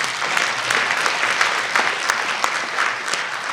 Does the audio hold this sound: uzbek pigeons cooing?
no